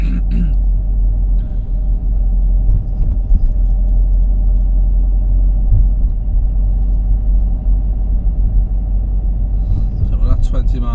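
A car engine held in third gear at low revs gives a steady, deep rumble that runs unbroken throughout, with faint voices murmuring over it.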